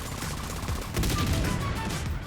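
Dense, continuous gunfire in the video game The Division 2, with rapid overlapping shots, growing louder and busier about a second in, with no talking.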